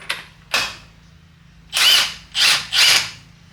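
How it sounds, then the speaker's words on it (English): Rattle gun impact wrench loosening a 27mm bolt on a Nissan Silvia S13 SR20DET crank pulley, two short whirring bursts followed by three longer loud hammering bursts, close up with no speech. "27mm bolt, or if you've got a rattle gun, just stick it on the rattle gun and hopefully it breaks loose."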